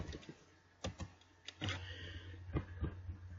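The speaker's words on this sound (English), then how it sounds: "I'm going to type my name, or I'll type someone else's name." Typing on a computer keyboard, a scatter of sharp separate key clicks followed by a denser run of taps, close and fairly quiet with a faint background hum.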